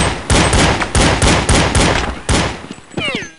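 Loud, close gunfire from the video game Counter-Strike 1.6: a rapid series of sharp shots in quick bursts, ending with a ringing, sweeping tail.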